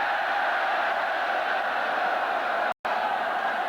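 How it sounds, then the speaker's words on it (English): A soccer stadium crowd at a 1991 women's international match between the United States and Chinese Taipei reacts to a foul with a broad, sustained roar and murmur, steady throughout apart from a brief dropout near the end. "Does not sound like the crowd liked that foul."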